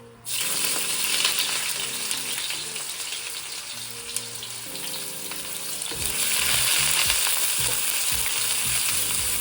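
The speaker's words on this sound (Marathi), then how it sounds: "आता मी कांदा जो कापलेला आहे तो मी टाकतो याच्यामध्ये" Chopped onion hits hot oil in a pan for shrimp fried rice, bursting into a loud, dense sizzle that carries on steadily and swells again later as it is stirred, close with a low hum underneath.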